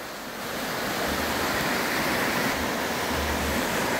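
The Ribeirão Espírito Santo river in flood rushes past as a loud, steady roar of fast brown water, a dense unbroken wash of noise that never lets up.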